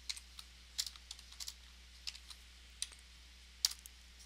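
Typing C# code on a computer keyboard, a handful of sharp, scattered key clicks and short bursts over a quiet hum, close and isolated.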